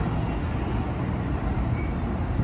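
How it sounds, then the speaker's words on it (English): Near a Chicago elevated station, an Amtrak train passes by as a steady, broad rumbling roar that stays at an even level throughout, with no voices heard. "there's an Amtrak train going by"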